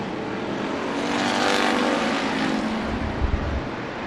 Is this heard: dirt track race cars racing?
yes